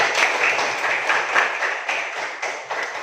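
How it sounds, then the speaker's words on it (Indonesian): Children and parents at a school gathering clap together in a lively round of applause. Dense, close hand-clapping carries through the whole span with small rhythmic pulses, and no voices are heard over it. "Mari kita berikan tepuk tangan yang mulia kepada"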